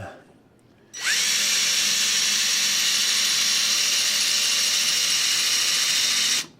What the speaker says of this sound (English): I'm just going to come in here with this drill